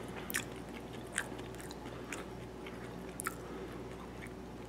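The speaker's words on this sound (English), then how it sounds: "They kind of burst in your mouth when you chew them." Red, brown and regular quinoa seeds being chewed up close, giving quiet, irregular crunchy bites and soft squishy mastication over a low steady room hum, with no talking.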